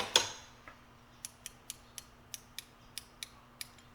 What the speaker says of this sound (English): these are just as durable as a 72 tooth ratcheting mechanism. So here you can kind of hear it. That dual pawl.